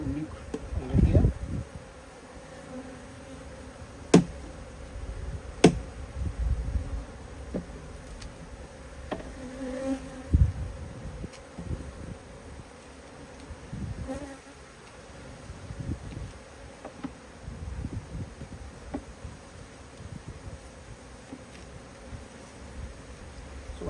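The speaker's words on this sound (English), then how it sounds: "all the flying bees will fly out of the nuke and come back in" Honey bees buzz in a steady, close drone while a colony is moved into a nuc box, with scattered knocks and handling noises and a few faint voices underneath.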